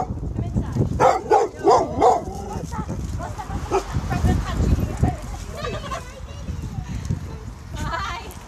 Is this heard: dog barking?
yes